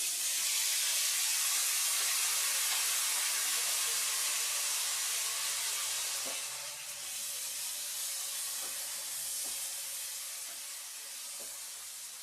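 Steady loud sizzling hiss of sliced red chillies frying in hot tempering oil for gongura chutney, continuous throughout with a few faint clicks.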